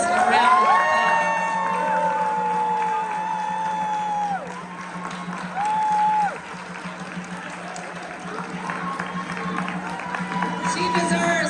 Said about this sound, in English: Ladies and gentlemen, please give Cheryl Davis a round of applause.